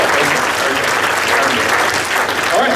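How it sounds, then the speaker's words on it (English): A conference audience applauds a guest named Scott at a business event, a dense, loud, continuous wash of clapping that fills the room from start to finish. "Let's give Scott another big round of applause."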